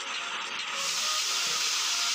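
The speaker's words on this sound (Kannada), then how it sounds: "ಫ್ರೈಟ್ ಟ್ರೈನ್ಸ್, ಬಟ್ ಅಷ್ಟು ಎಳ್ಕೊಂಡು ಹೋಗುತ್ತಲ್ಲ ಅದು ಟ್ರೈನ್ಸ್." A long freight container train passes on an Indian railway, giving a steady, loud, broadband hiss and rush that holds for a couple of seconds with no voices.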